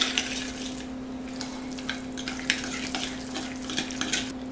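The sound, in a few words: stirring cucumber into yogurt gyro sauce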